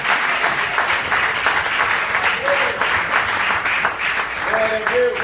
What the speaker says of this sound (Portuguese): Você pode dar mais uma salva de palmas ao Senhor.